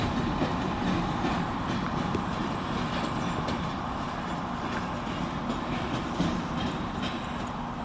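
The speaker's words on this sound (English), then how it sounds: "this local train is heading towards downtown Shakopee" Union Pacific local freight train rolling steadily past near Valley Park Yard toward downtown Shakopee, with continuous rail rumble and faint clickety-clack of railroad cars throughout.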